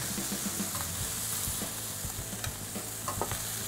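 Meat sears in a hot pan with a steady, close sizzle and frying crackle, broken by occasional clinks and scrapes of stirring.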